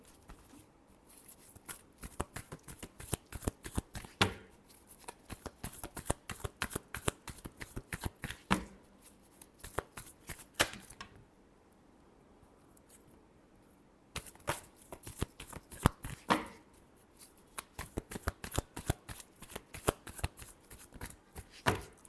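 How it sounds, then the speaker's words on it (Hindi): Tarot cards being shuffled close up in quick riffling bursts of crisp rapid flicks, broken by two short quiet pauses before the shuffling resumes. "Last shuffle."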